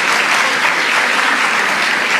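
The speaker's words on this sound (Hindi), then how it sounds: "आज के मैं जोरदार ताली बजाकर माननीय जी का स्वागत करूँ।" An audience at a Guru Purnima event in Indore breaks into loud, dense applause to welcome the chief minister, a steady burst of clapping with no pauses.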